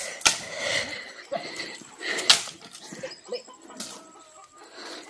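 Chickens cluck and squawk at a chicken farm. Sharp, loud calls come in bursts near the start and around two seconds, with scattered softer clucks and faint farm noise between them.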